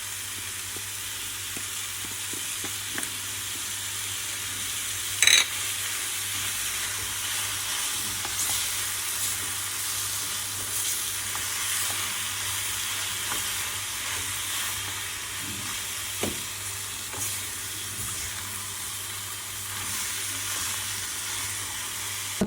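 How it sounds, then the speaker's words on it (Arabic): Chicken breast, peppers, onion and herbs sauté in a pan with a steady, close sizzle that carries on evenly throughout, broken only by a few faint clinks of stirring. "تشحرت الفليفله والبصله والعطريه وشويه الربيع وشويه الصدر ديال الدجاج"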